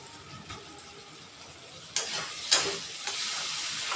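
Spice masala frying in a pan, a soft sizzle that jumps louder about halfway as fresh stirring stirs it up, with a couple of sharp scrapes of a utensil and a steady hiss to the end.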